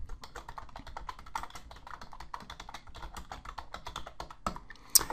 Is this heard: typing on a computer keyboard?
yes